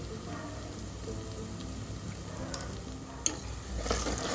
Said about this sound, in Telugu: సో తిప్పేస్తున్నాను, మంచిగా కలుపుకున్నాను.